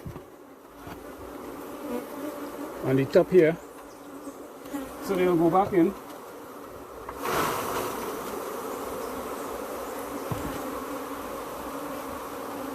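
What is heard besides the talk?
honey bees buzzing around brood frames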